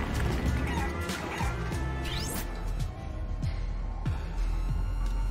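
Chickens in the video game Guacamelee! 2 cluck and squawk over loud, busy game noise with crashes and thumps, the bird calls repeating in short bursts throughout.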